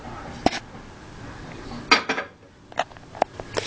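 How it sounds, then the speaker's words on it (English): A spoon mixes condensed milk, lemon juice and grated lemon rind in a bowl for cheesecake filling, producing a handful of sparse, sharp clinks and scrapes against the dish in a quiet room. "add the condensed milk and lemon juice and the rind and mix those together"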